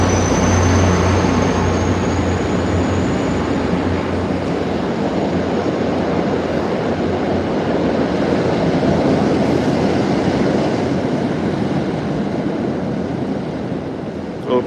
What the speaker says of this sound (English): Here's the commuter rail.